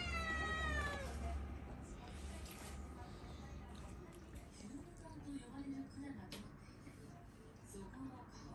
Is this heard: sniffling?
no